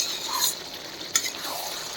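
Goat meat and potatoes dry-frying together in oil, a soft steady sizzle with a couple of sharp scrapes of a spatula stirring against the pan.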